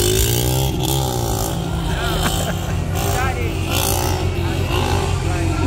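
A Jamaican taxi motorcycle revving hard during a wheelie, a loud, continuous engine drone with rising and falling pitch, up close under excited voices.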